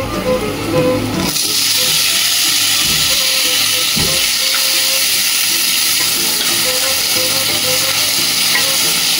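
Tomatoes hit a frying spice paste for a tilapia and drumstick curry. A loud sizzling burst flares up after a quieter start and then settles into a steady, close hiss with occasional stirring.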